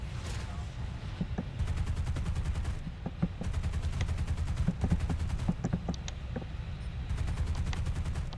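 Aircraft gunners firing in War Thunder: steady bursts of rapid machine-gun fire repeat across the stretch, loud over a constant engine drone, with sharp individual shots punctuating the rattle.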